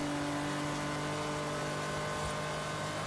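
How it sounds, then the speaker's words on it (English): A car engine in the Forza Horizon 3 video game produces a quiet, steady, low droning rumble that holds without a break throughout. "It has that 6-cylinder rumble to it, I think. But it sounds good."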